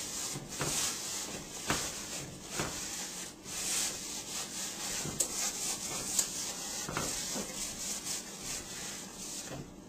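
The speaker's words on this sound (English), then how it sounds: "just give the inside of the pan a light coating all over" Steady rubbing of a cloth coating the inside of a cast iron pan with oil, a continuous close swishing with soft rhythmic strokes and no voices.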